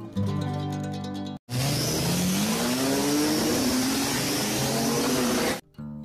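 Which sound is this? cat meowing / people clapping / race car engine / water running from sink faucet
race car engine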